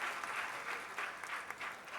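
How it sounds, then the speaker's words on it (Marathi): An audience claps for the guardian minister at a road safety campaign closing ceremony, a steady, moderately distant round of applause filling the whole moment. "एकदा जोरदार टाळ्या त्यांच्यासाठी वाजवूयात."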